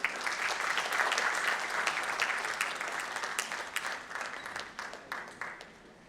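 Thunderous audience applause at an inaugural session as a speaker is invited to give the presidential address, dense clapping that holds steady and then thins and fades toward the end.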